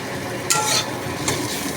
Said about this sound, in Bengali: অল্প তেল দিয়ে ভাজছি